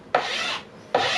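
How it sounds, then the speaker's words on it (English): A hand file rasps along the edge of a melamine board for a kitchen cabinet, two close, loud strokes with a short pause between them, the second cut off at the end. "you just get the rasp of the file and go along the edge"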